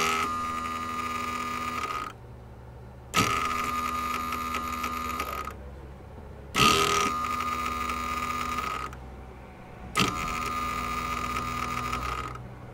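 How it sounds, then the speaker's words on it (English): Land Rover Defender or Discovery 2 ABS modulator pump running during a brake bleed sequence, a steady electric whirring buzz in four separate bursts of about two to three seconds each, with short quiet gaps between them. "press and hold brake pedal during sequence, like so, and this will bleed the modulator unit"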